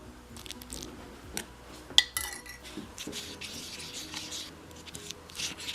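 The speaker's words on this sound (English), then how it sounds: "Just gonna put some and mix it a little bit." A spoon mixing tomato clay mask powder in a bowl, quiet irregular scrapes and small clinks of metal against the dish, close and soft with a sharper tap near the middle, no talking.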